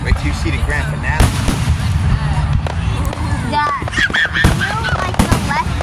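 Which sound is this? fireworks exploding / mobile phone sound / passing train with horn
fireworks exploding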